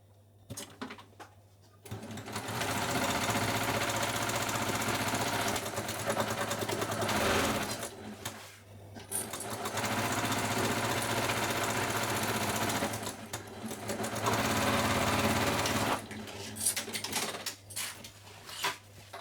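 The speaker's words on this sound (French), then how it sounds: "on vient coudre au point droit, sans oublier ces points d'arrêt au début et à la fin" A sewing machine running a straight stitch along a lined waterproof beach bag, whirring in long close bursts with short pauses between them, starting and stopping for the backstitches.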